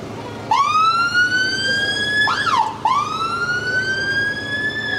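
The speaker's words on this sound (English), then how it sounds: "Dodge Charger with lights and sirens" An American Dodge Charger police car sounds its siren nearby, a loud rising wail that breaks into a quick yelp midway and then resumes its sweeping tone.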